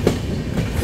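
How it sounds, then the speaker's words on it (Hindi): Varanasi Vande Bharat Express rushing past a moving train, a brief close burst of rolling wheel and wagon rumble. "ये निकली वाराणसी वंदे भारत एक्सप्रेस"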